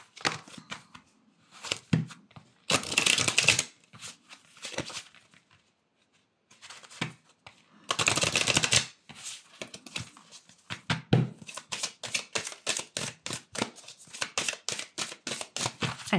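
Oracle cards from an eternal crystals deck are shuffled in several bursts of riffling and rapid flicking, close and crisp, with quiet gaps in between.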